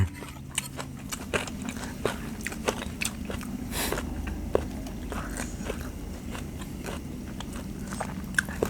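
Someone bites and chews crispy pork rinds with fat attached: steady crunchy chewing with sharp cracking bites scattered throughout, close to the mic, over a low constant hum and no talk.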